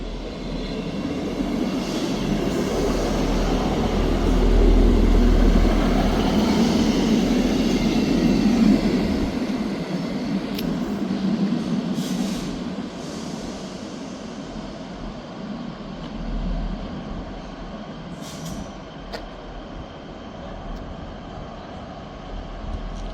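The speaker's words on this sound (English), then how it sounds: "Departing out now is the 1318 Scotrail service from Aberdeen to Edinburgh Waverley." A Scotrail service from Aberdeen to Edinburgh Waverley departs Dundee station with a low rumbling engine that swells over the first seconds, then eases into a steadier drone with faint rail squeals as it pulls away.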